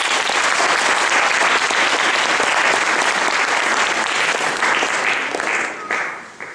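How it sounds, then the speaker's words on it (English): An audience at a youth speech contest applauds in a dense, steady wash of clapping, loud and sustained before it tapers off near the end. "let's all give him a round of applause!"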